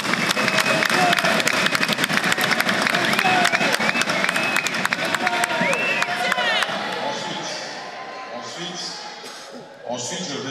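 Delegates at a round table meeting applaud and cheer in acclamation, loud dense clapping mixed with raised voices that tapers off after several seconds, with talking continuing afterward.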